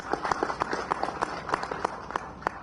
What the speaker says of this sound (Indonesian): kita tepuk tangan untuk Kepala BNN.